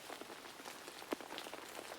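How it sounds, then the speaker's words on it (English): Soft rain falls over a forest with a light pitter-patter, faint scattered drops tapping steadily and one slightly sharper drop midway, no voices. "The rain still fell, pitter-patter, over Sleepy Forest."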